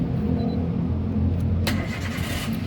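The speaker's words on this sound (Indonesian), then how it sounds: "coba kita nyalakan mobil." A 2013 Daihatsu Xenia 1.3 R Sporty manual car, about 38,000 km, starts its engine, with a loud, close mechanical rumble and a sharp burst as it catches.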